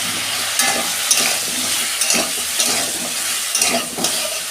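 Cauliflower and potato pieces fry in oil in a kadai, a loud continuous sizzle punctuated by regular scraping strokes of a spatula stirring roughly twice a second.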